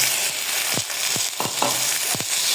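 Chicken frying with onion in a pan gives a steady sizzle, broken by a few scraping strokes of a spoon at uneven intervals, close and fairly loud with no voices.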